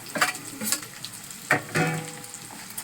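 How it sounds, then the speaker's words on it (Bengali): Fried potatoes and pointed gourd tossed in a hot pan crackle in short, intermittent bursts of sizzle with stirring strokes between them, heard up close and without speech. "এর মধ্যে এবারে আমি দিয়ে দিচ্ছি আলু কাল্লা ভাজাগুলো"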